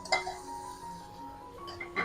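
Paneer and capsicum are stirred in a pan during Sunday tiffin cooking, giving soft metallic scrapes and a light clink near the start and end over a faint steady sizzle, with no talking.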